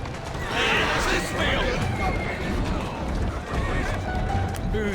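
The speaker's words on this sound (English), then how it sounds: "Who's a good horse?" A horse in Assassin's Creed Syndicate whinnies loudly while hooves clip-clop steadily underneath, with busy game ambience throughout.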